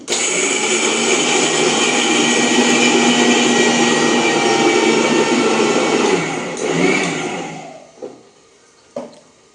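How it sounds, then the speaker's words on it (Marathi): A kitchen mixer grinds peanuts with a loud, steady high-pitched whir that runs for about six seconds, dips briefly, then winds down and stops, followed by a few faint clicks. "आता शेंगदाणे बारीक करते"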